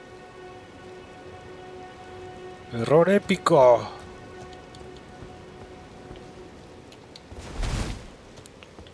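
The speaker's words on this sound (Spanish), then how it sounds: "¿Cómo puede llover aquí adentro?" Rain falling indoors inside a wandering mausoleum in the video game Elden Ring, a steady patter throughout at moderate level, with a man's short exclamation breaking in partway and a brief whooshing burst near the end.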